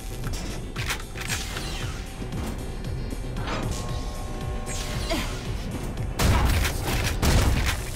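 Gunfire in the shooter game Ion Fury crackles in dense, overlapping bursts with crashing impacts, growing louder and heavier toward the end of the stretch.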